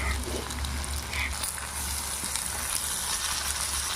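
Masala for bullet fry sizzling in oil after mint and coriander leaves go in, a steady low crackle with occasional light clicks of stirring, nearby and continuous with no talking.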